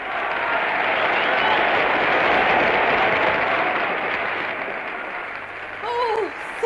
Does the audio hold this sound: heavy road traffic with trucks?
no